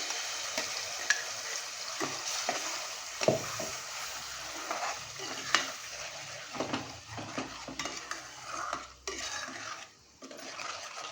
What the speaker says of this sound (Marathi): वाटण ह्याच्यामध्ये छान असं परतून घ्यायचं आहे आपल्याला